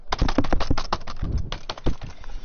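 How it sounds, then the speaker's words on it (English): Rapid, uneven clatter of keys on a PC keyboard with a quacky, clicky character, close and crisp, bursts of keystrokes with brief pauses and no talking. "I love the sound of quaky keyboards."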